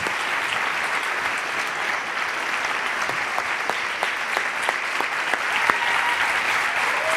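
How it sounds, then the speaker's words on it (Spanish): A room full of people at a live interview event keeps up dense, continuous applause for several seconds, loud and steady, with a few sharper individual claps standing out near the end. "aplauso para todos vosotros y para ellos."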